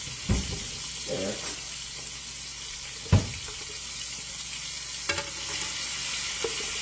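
Steaks searing in a hot pan with minced garlic: a steady, bright sizzling hiss throughout, with a few brief knocks and shifting sounds as the meat is moved.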